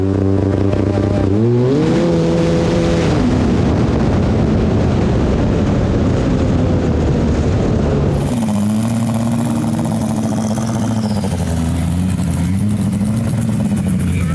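A turbocharged twin-engine racing snowmobile launches hard down a drag strip. Its engines give a loud, rising roar, then a sudden shift in pitch as the throttle lifts, and a steady drone follows, with the announcer's commentary faintly underneath.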